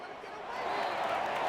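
Stadium crowd noise from a Madden 26 Jacksonville Jaguars vs Pittsburgh Steelers football game, a dense roar that builds louder through the short stretch under a commentator's voice.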